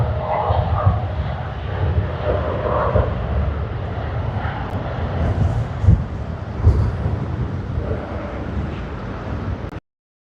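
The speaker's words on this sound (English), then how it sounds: "United Airlines, Boeing 787-9." A United Airlines Boeing 787-9 jet at Sydney Airport makes a sustained engine rumble and roar with gusty buffeting, continuing steadily before cutting off abruptly near the end.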